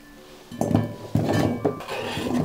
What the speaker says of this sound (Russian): Готово. Перекладываем в котелок.